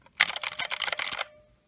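Typing on an E Elemend Z-88 mechanical keyboard with blue switches, a quick burst of crisp clicky keystrokes for about a second, close and fairly loud, with a faint metallic ring trailing off at the end.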